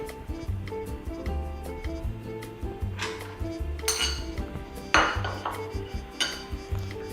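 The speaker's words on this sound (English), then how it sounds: "Give everything a toss using your fork" A metal fork scrapes and clinks against a bowl as chopped strawberries and flour are tossed together, a close run of rhythmic taps and sharp clinks with a few louder knocks and no talking.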